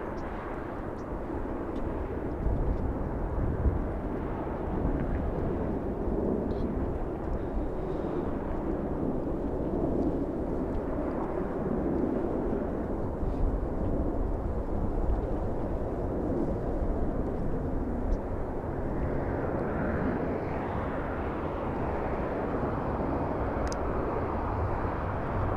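A Delta Airlines jet arriving from Seattle lands at LAX, a moderately loud, sustained rumbling jet roar throughout with no voices.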